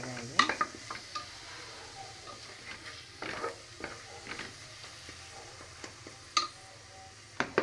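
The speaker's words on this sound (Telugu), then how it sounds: "బాగా వేగాలండి, ఎర్రగా బాగా వేగాలి." Food fries in oil in a pan until reddish, a low, soft sizzle punctuated by sharp clicks and scrapes of a spoon stirring against the pan at close range.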